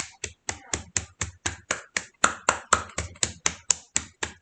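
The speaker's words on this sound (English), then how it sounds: "let's clap the foot now. We're doing the tapotement. We're just striking the foot on the bottom" Hands clapping against the sole of the foot in tapotement self-massage, a steady run of about seventeen sharp, close slaps at an even brisk rhythm, with no talk.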